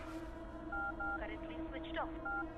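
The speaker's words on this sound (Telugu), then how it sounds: "మనస్కు ఫోన్ లగా." Several short electronic tones beep in a steady pattern, like keypad dialing on a phone, with a voice talking faintly underneath.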